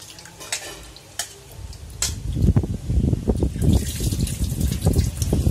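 Lentils for khichuri are washed in water, with soft splashing and swishing that grows busier and louder midway, rhythmic sloshing under a few light taps, close and without talking.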